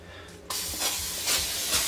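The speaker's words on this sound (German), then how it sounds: "Und sprühen wir ein bisschen ein, oder? Pan-Spray." Cooking oil spray hits a hot preheated frying pan in a sudden loud hiss that starts partway through and carries on steadily, with small surges of sizzle, close up.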